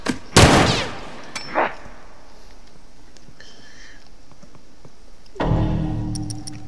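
Shotgun blasts in The Last of Us multiplayer come as a loud, sharp boom near the start and another heavy shot late in the clip. A smaller report falls in between, with quiet ambience filling the gaps.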